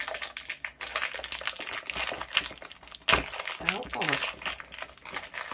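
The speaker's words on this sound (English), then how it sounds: "I don't know why it's not peeling off like it did the day before." A resin sticker being peeled off its backing gives a crackly, crinkling tear that runs throughout, with a few sharper snaps, while a person talks over it.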